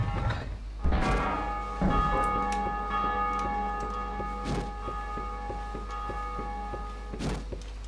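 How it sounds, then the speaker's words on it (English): A bell in the video game Dark Souls 2 tolls several times with long ringing overtones that sustain and decay, heard clearly with no talk. "Ring the bell."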